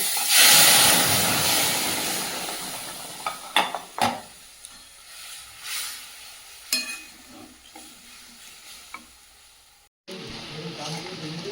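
Boiled dal with turmeric and Kashmiri chilli powder in a pan: a soft hissing simmer fading down, punctuated by occasional spoon knocks and stirring scrapes, a brief near-silent gap, then the bubbling resumes.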